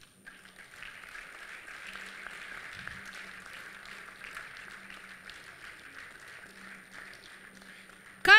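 Audience at a book launch applauding, a steady distant patter of many hands clapping that holds evenly for about eight seconds, fairly faint, with a brief voice underneath.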